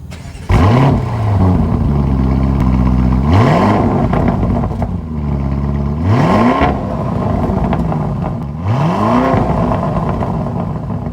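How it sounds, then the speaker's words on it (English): A Lamborghini Urus SUV's exhaust is revved three times in a row, each loud rising roar falling back to a deep idle between blips, recorded close behind the vehicle. "while we're back here with this Lamborghini Urus, we're gonna have to take a listen to the exhaust"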